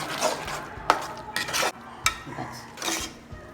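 A spoon stirs adai payasam, rice ada simmering in jaggery syrup, in a pan: scraping sweeps and clinks against the metal at an irregular pace, close and fairly loud.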